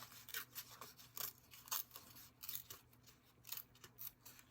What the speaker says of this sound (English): So we're just going to tear this